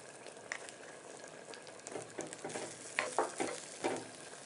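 Nendran banana sautés in ghee for a neem-flower payasam, giving a faint, steady sizzle with a few soft stirring scrapes and clicks toward the end, heard close up with no talking.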